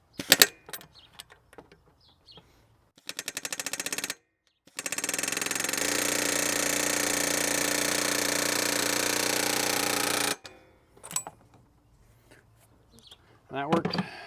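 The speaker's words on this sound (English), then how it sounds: "A good old air hammer." A pneumatic air hammer chisels at a fan clutch on a 1997 Chevy Suburban in a long, loud continuous burst of rapid hammering, preceded and followed by shorter bursts, clanks and tool noises.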